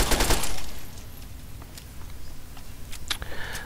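Gunfire in Fallout 3, with a loud burst of rapid shots at the start, then quieter scattered reports and clicks over a low background hum, with no talking.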